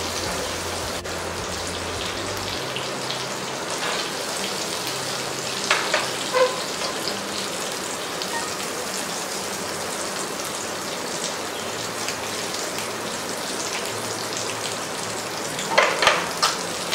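Food fries in a pan for an egg biryani, a continuous close crackle like rain, broken by a few sharp spatters and stirring clatters near the middle and end.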